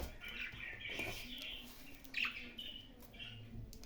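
Pet parrots chirp in short, high bursts, faint and scattered across a few seconds, with no talking over them.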